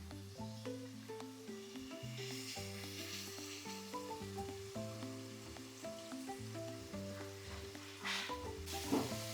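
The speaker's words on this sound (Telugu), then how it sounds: "ఇందులో జస్ట్ పన్నీర్ని అలా టాస్ చేద్దాం" Paneer sizzles steadily as it is tossed in a lightly oiled pan that was already used for frying, with a continuous hiss and some stirring and scraping. Background music plays throughout, and no one speaks.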